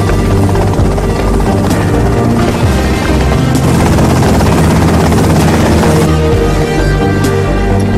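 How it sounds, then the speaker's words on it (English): A helicopter in the video game GTA Vice City roars loud and close with constant rotor thump and engine whine, filling the scene without pause and with no talk. "that's them in the chopper"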